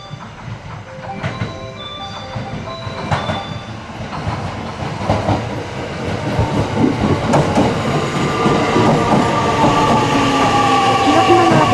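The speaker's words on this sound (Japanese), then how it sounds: "2番乗り場に列車が参ります。" A JR West 227 series electric train pulls in at Wakayama Station platform 2, rumbling louder as it nears, wheels clicking and squealing against the rails, with a platform announcement chime early on.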